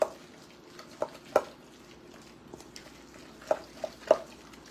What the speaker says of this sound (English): I want to mix these all together with my tuna